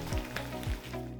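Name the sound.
maple syrup poured onto freshly baked hot babka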